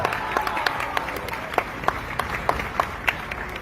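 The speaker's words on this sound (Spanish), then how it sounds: "Big applause for that." An audience at a corporate talk by a deputy CEO claps, a steady moderate patter of many hands with some distinct sharp claps standing out, continuing throughout.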